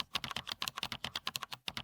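Rapid, even keystrokes from a keyboard-sound mod in the Opera GX browser, clicking steadily in a quick rhythm with short gaps, close and fairly quiet, with no voices.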